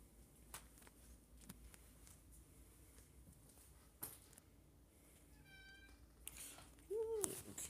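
Pet cat gives a single short meow late in an otherwise quiet indoor room with faint clicks and handling noises, the call brief and fairly close.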